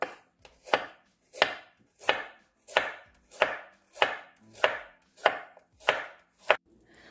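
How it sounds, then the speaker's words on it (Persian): Peeled carrots are chopped into thin rings on a board with about ten evenly spaced knife strikes, each a crisp, close thunk, and no voice is heard. "اونها رو به صورت حلقه‌ای نازک خورد میکنیم"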